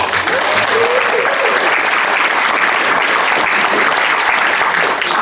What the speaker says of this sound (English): let's give a big round of applause to Pat for hosting the award